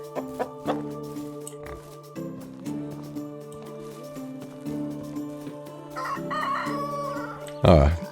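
Chickens in the medieval farming game Medieval Dynasty cluck and a rooster crows, steady bird calls over a droning ambient backdrop ending in a loud close squawk, with a voice speaking briefly.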